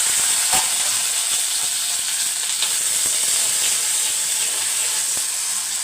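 Small shallots sautéing in a pan for village-style chicken curry, a loud continuous hissing sizzle with faint occasional stirring clicks.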